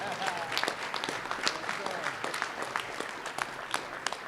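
Audience applause at a men's breakfast gathering in Newark, a steady wash of clapping hands with a few voices mixed in, moderately loud and continuous throughout.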